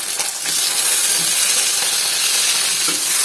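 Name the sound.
tomatoes added to hot oil, sizzling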